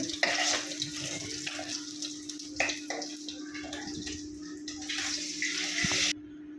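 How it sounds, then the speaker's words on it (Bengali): Pieces of rohu fish fry in oil in a pan, giving a loud, continuous sizzle with bursts of spattering and a few clinks of a spatula, alone without talk until it cuts off near the end. "মাছগুলো সুন্দর করে উঠায় পাঠায় বাইজা নিচ্ছি"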